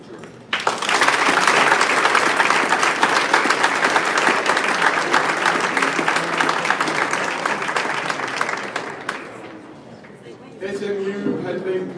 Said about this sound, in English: say a round of applause for the University of Turin